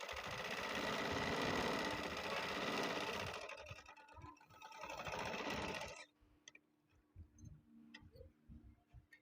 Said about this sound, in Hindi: अब मैं इधर बगल की फिटिंग की सिलाई लगाऊंगी।